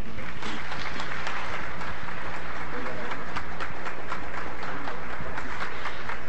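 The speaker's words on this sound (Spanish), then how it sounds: "Recibámoslo con un fuerte aplauso." Audience applause welcoming a speaker at a geography and statistics conference, a dense continuous wash of clapping at steady loudness, with some voices underneath.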